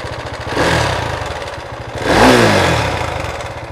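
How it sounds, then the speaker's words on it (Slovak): A 2018 Husqvarna Vitpilen 701 sport motorcycle engine fires up with a sharp blip, settles briefly, then revs hard again, loud and echoing in a garage. "Ten motor, ako ste mohli počuť, má hodne aj mechanický zvuk vyslovene športového motora."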